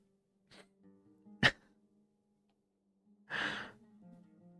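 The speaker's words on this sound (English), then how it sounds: "there was a sneeze" A Genshin Impact character's sneeze, preceded by a short breathy catch and followed after a pause by a longer sighing exhale, close and clear.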